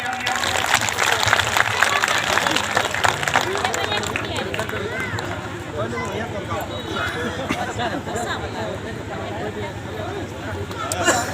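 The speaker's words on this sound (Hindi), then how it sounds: "एक बार जोरदार तालियां।" Audience applause at a Jharkhand Foundation Day gathering, a steady patter of clapping from a crowd that starts strong and tapers, mixed with hubbub and someone talking over it.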